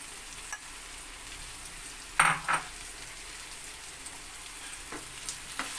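Boiled taro stolons with salt and dried fish being stirred in a pan, a faint steady sizzle with two brief close scraping bursts midway and a few light taps later.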